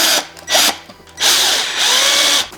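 A power drill drives screws down into battery parts for an electric sailboat's 16S LiFePO4 pack, with loud, close whirring bursts separated by brief pauses and a longer run at the end.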